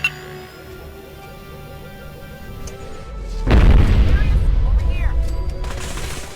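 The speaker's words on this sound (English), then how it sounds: "calling down a powerful shot from an orbital laser" An orbital laser cannon strike in Fallout 4 lands with a sudden deep boom partway through, swelling into a long rumbling blast with crackling debris and whooshes, after a stretch of low hum and faint beeps.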